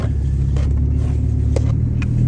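A pickup truck engine in granny low gear, rumbling low and steady from inside the cab, a constant deep drone with a few faint clicks and knocks over it.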